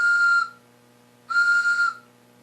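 A simple whistle blown outdoors for backpacking or camping safety: two loud, shrill steady blasts, each about half a second long, separated by a short gap.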